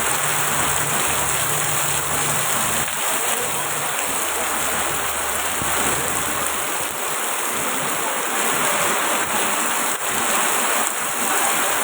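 Steady rain pours down outdoors on a rainy day, a dense, even wash of falling water heard close and continuously with no voices.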